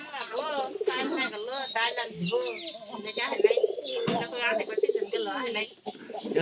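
Pigeons coo in soft, repeated throaty calls, mixed with chirps, while people talk close by throughout.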